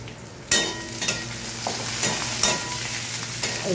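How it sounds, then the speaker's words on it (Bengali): Cinnamon and small cardamom crackle in hot oil with a busy sizzle, punctuated by several sharp pops and utensil scrapes that start abruptly and continue throughout; no speech. "একটু দারচিনি, আর একটু ছোট এলাচ, এগুলো একটু ফাটিয়ে দিলাম"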